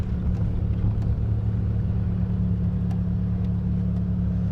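A 1999 Mitsubishi Eclipse GS Spyder cruises through Flint, heard from inside as a steady low engine drone and road rumble, constant and moderately loud with no talk.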